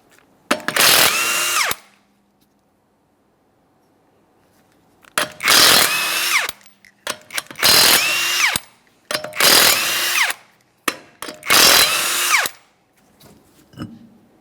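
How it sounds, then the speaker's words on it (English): An impact tool loosens the 21mm lug nuts on a 2014–2019 Toyota Corolla front wheel. It fires loud, close rattling bursts, five in a row with short silent gaps between them. "we're going to remove all 5 of our 21mm lug nuts and then the wheel"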